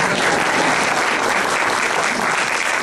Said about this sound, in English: Just so, clap away, she's wonderful.